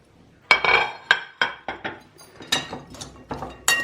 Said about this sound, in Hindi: सबसे पहले हम तमाम वेजिटेबल्स जो कि आलू, प्याज, हरी मिर्च और धनिया है वो ऐड कर देंगे।